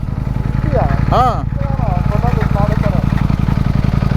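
A KTM motorcycle engine drones steadily at close range during an off-road riding event, with a continuous buzzing pulse throughout as people talk over it.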